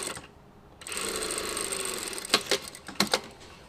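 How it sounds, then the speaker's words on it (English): An overlocker sewing machine stitches a fabric seam for a double bias binding, starting up into a steady, close mechanical whir, followed by a few sharp clunks near the end. "I'm just going to overlock this"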